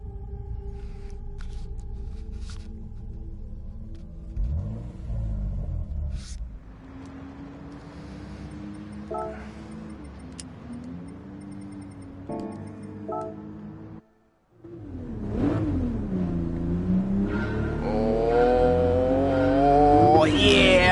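Race car engine in GT Sport on PS4 Pro in VR, racing against an older car: engine notes rise and fall through gear changes, cut briefly, then climb into a loud, sustained high rev.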